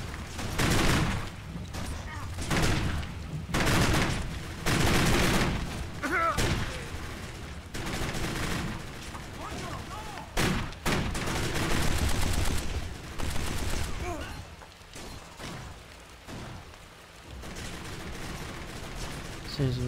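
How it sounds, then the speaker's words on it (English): Dense gunfire from the video game Kane and Lynch: Dead Men: rapid bursts and single shots overlap in loud, near volleys throughout, with brief lulls, and a voice talks over the fighting. "Seems the number of gunshots has gone down."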